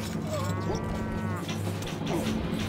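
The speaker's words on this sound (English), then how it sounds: "Oh no, the cows!" Cattle mooing in the castle-building strategy game Stronghold HD, several drawn-out lowing calls over a steady hum of background game ambience, no talk.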